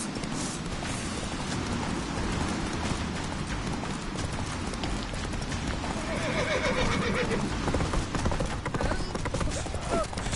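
Roach, a horse in The Witcher 3: Wild Hunt, gallops with steady, loud, dense hoofbeats and lets out a neigh partway through, against a busy game background.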